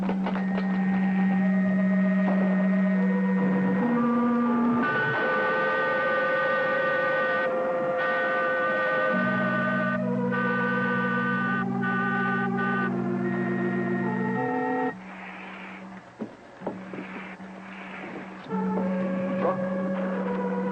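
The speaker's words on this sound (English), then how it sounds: "What do you make of that music? The sound of a motor." A motor runs steadily with layered tonal hums and shifting pitched tones, loud and continuous for about twenty seconds, briefly dipping in level near the end before resuming.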